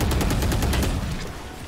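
Rapid gunfire in a first-person shooter game, a steady burst of close, loud shots in quick rhythm that eases slightly toward the end.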